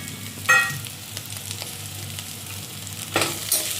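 Shallots and curry leaves sautéing in a pan for village-style tomato rice, a continuous low sizzle broken by a few louder scraping stirs near the start and end.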